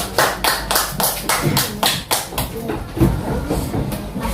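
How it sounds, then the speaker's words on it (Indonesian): A small classroom group claps in a quick, fairly even rhythm, close by and moderately loud, gradually loosening into scattered claps. "beri tepuk tangan untuk Azril."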